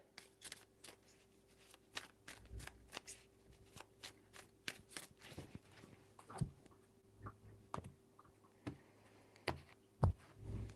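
Tarot cards being shuffled by hand in quick bursts of riffling and slapping, with pauses between, close and fairly quiet against a faint background hum.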